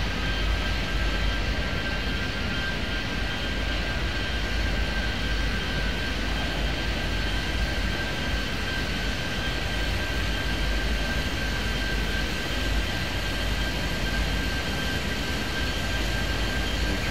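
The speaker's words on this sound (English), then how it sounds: "Future Jet 797 on the pushback." A Future Jet 797 airliner rolls back on pushback at an airport in the Airport Madness 3D game, a steady broadband jet-engine roar with a faint constant whine, unchanging and alone throughout.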